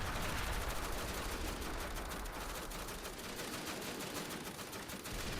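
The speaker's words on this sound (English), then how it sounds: "Here's the right side group of guns." Massed rifle and gun fire from groups of guns in a Civil War battle video game crackles in a dense continuous smatter, loud and unbroken throughout with no pauses.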